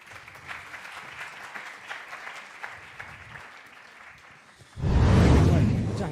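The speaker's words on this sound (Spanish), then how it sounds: "Un aplauso." Applause from a lecture audience at a physics conference talk on density functional theory: a steady patter of clapping that swells suddenly into a loud, full burst near the end.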